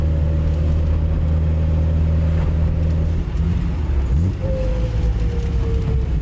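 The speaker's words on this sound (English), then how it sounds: "I think the resonator really cleaned up the noise." A Nissan Z with a resonator-equipped exhaust drones steadily inside the car, a smooth low rumble holding pitch, then easing and climbing again as the revs shift.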